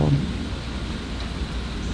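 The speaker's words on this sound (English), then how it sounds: "But we have a ton of thunder, ton of lightning. Listen to that." Steady rain hiss with a low rumbling of thunder underneath, continuous and enveloping.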